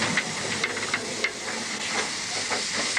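A steam locomotive hisses steam as it comes to a stop, giving a broad, steady rushing hiss with faint intermittent clanks, close and moderately loud.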